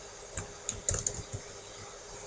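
Code is typed on a computer keyboard in a handful of sharp, close key clicks spaced irregularly over a low steady hum, with no speech.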